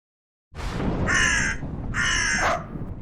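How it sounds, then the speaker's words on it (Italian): A crow caws twice, loud and close, each harsh call lasting about half a second with a short gap between, alone with no talking. "È solo un corvo."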